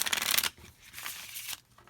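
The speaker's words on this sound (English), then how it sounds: "I'm going to shuffle it right now." Riffle shuffle of a glossy, coated deck of card stock, a dense fluttering burst at the start, then softer rustling as the cards settle, close and alone.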